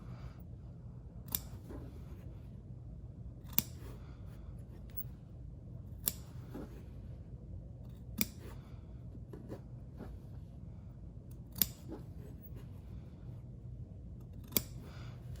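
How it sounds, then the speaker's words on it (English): Scissors snip through fabric while a welt pocket is cut open, a short crisp cut roughly every two to three seconds over a quiet, steady background hum. "The issue with using dull scissors or with using the full body of the scissor is that you could easily go too far"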